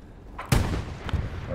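Gunfire in the World War II shooter game Hell Let Loose: one loud, sharp shot followed by a second fainter report, close, over a low background rumble.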